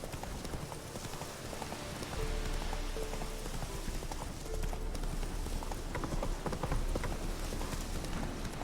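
Horse hooves clip-clop steadily while riding in The Witcher 3: Hearts of Stone, a continuous rhythmic trot over a soft ambient bed with faint rain-like texture.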